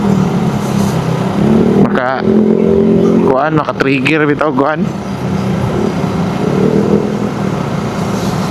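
Motorcycles with loud exhausts on a night ride through Butuan City streets, engines rumbling with a rising and falling surge of revs midway, under someone speaking over the traffic.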